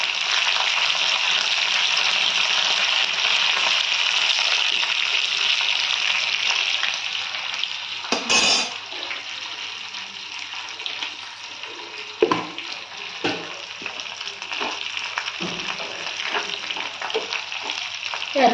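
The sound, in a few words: curry leaves frying in oil for amla pachadi tempering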